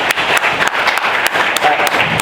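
An audience applauds at an inaugural program, with steady dense clapping from many hands that stays loud and close throughout.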